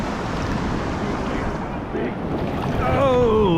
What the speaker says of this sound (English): I'd say that the waves are calming down a bit.